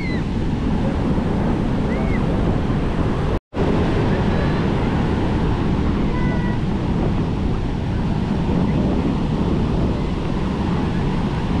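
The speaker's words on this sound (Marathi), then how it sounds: "लाटांचा किती आवाज येतोय" Ocean waves crash steadily at Sagareshwar beach in Vengurla, a loud, continuous roar of surf mixed with wind buffeting the microphone, cut by one brief dropout.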